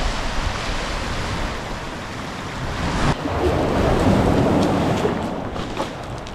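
Surf washing onto a Dorset beach, a steady broadband rush that swells slightly louder midway, with wind buffeting the microphone throughout and no voices.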